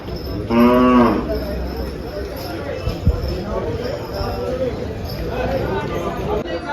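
A single loud cow moo rings out nearby at a cattle market for HF and Jersey cows in Dhule, followed by a busy murmur of voices and scattered thuds typical of a crowded livestock market.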